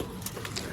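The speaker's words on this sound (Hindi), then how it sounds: "कबूतर अभी आराम फरमा रहे हैं सारे" Soft pigeon coos rise from birds resting inside their loft, a few low murmuring calls over a busy background with no clear talk.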